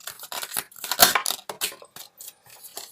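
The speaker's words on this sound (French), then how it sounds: "Je vais sortir une autre carte." A tarot card is drawn from the deck, heard as quick, close shuffling and crisp card-flicking snaps in dense bursts with a sharper peak in the middle, and no speech.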